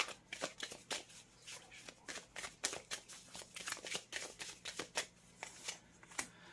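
Tarot cards being shuffled in quick irregular bursts of crisp riffling and slapping, close and fairly quiet, with no talk over them.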